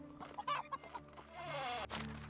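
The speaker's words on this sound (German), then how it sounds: "Hühner haben wir 10 Stück." Chickens clucking in the medieval farming game Medieval Dynasty, a series of short choppy clucks and squawks over a soft steady game ambience, moderately close.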